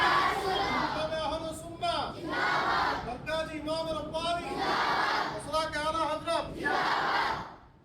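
A large crowd of men and boys answers a takbir call with loud, rhythmic chants of Allahu Akbar, the voices rising together in several strong, near bursts with brief pauses between them.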